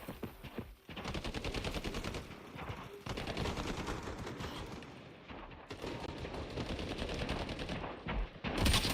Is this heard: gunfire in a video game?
yes